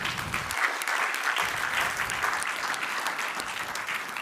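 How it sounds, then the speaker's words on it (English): A conference audience at a business software event claps together in sustained, dense applause, moderately loud and alone without speech, holding steady for a few seconds. "So give yourself a round of applause."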